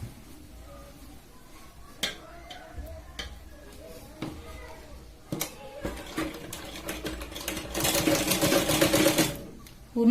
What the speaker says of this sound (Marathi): या पद्धतीने आपल्याला पूर्ण ही शिलाई लावून घ्यायची